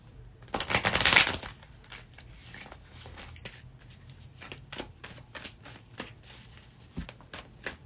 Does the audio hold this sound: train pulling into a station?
no